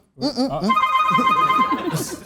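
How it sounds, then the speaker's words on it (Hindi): A telephone rings loudly with an incoming call, its bell trilling continuously while several people talk over it on a comedy show set. "मुझे भी कॉल आ रही है"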